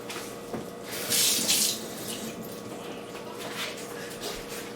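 A kitchen tap runs briefly, a short gush of water poured toward a simmering mushroom tomato sauce, close by with faint background noise.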